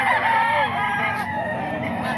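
A stag rooster crows at a Philippine grotto poultry sale, a harmonic call rising and falling over about two seconds, fairly close, with faint background chatter.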